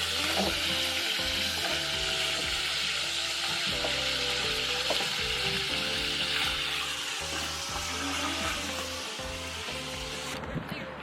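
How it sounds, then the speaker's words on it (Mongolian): Food frying in a hot pan, a loud, dense, continuous sizzle with repeated scraping and stirring knocks throughout, close and unaccompanied by speech. "Эхлээд ингэж шарж"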